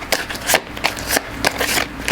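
A deck of tarot cards is shuffled by hand nearby, with repeated crisp riffling bursts in an uneven rhythm.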